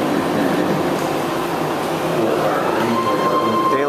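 A BART train pulling out of a station, a steady loud rumble of cars and rail noise throughout with a faint tonal whine rising near the end, no talk.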